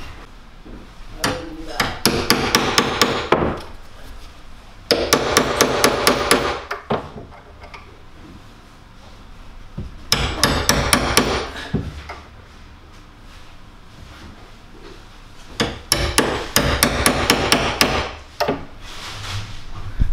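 Repeated hammer taps into a wooden butcher block countertop, making dents to mark pilot holes, in several bursts of rapid, sharp, close knocks separated by short pauses.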